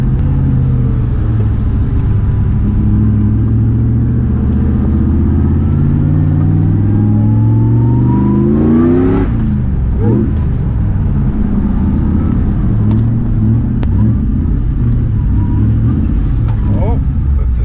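A new Nissan Patrol engine on its first drive, with a hot clutch and exhaust, runs loud and close. Its revs climb steadily, drop sharply at a gear change, then settle into a steady rumble.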